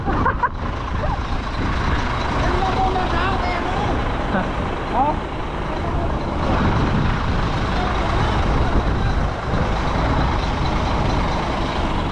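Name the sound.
truck reversing with reversing beeps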